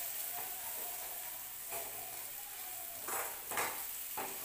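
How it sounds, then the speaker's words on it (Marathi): Spice masala with red chili powder roasts in a hot pan for a puri bhaji dish, giving a soft, steady sizzle with a few louder scrapes and stirring bursts near the end. "हे छान मसाला परतून घ्यायचा आपल्याला."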